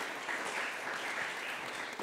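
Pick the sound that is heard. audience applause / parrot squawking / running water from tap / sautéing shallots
audience applause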